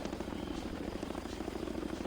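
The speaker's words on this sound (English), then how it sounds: "the animals come in a Chinook helicopter" A Chinook-style helicopter in the Zoo Tycoon Xbox game delivers animals to the zoo, giving a steady, close rotor drone and whir that holds level for the whole stretch with no talk over it.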